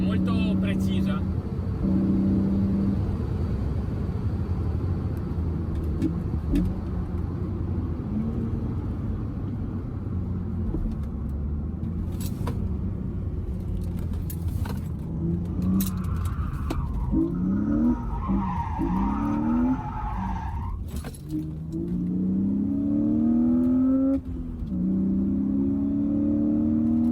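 A BMW Z4 fitted with a strut bar is driven through quick direction changes, its engine droning steadily throughout while tires squeal in short bursts during the turns. Someone talks over the car noise now and then.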